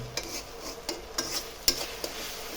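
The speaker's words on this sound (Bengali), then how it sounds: "ভালো মতো কষাই নিতে হবে আদা রসুনের বাটাটা" Ginger garlic paste being stirred and fried in a pan, with soft sizzling under a series of sharp spatula scrapes and taps against the pan at irregular intervals, close and fairly quiet, no talk.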